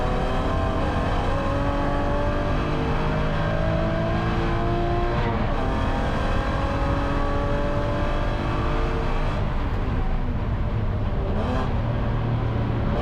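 A BMW Spec E9X race car engine roars continuously from inside the car on track, its pitch climbing and dropping repeatedly through gear changes and braking, loud and close with no talk.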